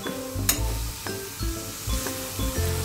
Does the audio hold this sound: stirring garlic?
yes